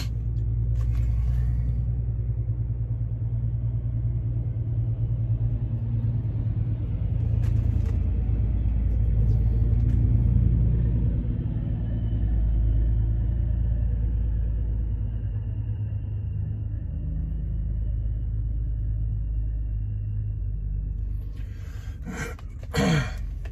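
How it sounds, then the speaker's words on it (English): Loud truck passing by outdoors, a heavy low rumble building and lingering for many seconds before fading, with brief rustling noises near the start and end. "Here comes a truck that's really loud."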